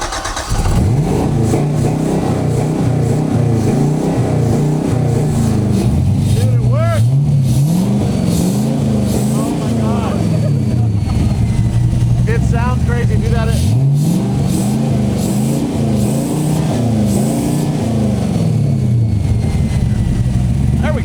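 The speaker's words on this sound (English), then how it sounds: "Running on the Predator Ram, and it's revving up kind of well." Chevrolet LS V8 engine fed by three Predator lawn mower carburetors revs loudly and repeatedly, rising and falling in pitch over a steady rumble, with people talking over it.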